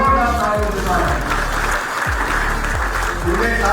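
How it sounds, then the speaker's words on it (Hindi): Audience applause at a political gathering welcoming a Gurgaon district president on stage, sustained dense clapping throughout with a voice speaking over it. "उनके साथ में बैठे हुए गुड़गांव के यशस्वी जिलाध्यक्ष बड़े भाई कमल यादव जी का भी एक बार जोरदार तालियों से स्वागत है।"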